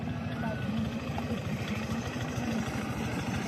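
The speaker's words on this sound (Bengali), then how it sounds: "দেখো স্পিরিট বোট আসছে" A small motorboat engine chugs with a steady, rhythmic idle-like putter on the Bhagirathi Ganga river, moderately near and continuous throughout.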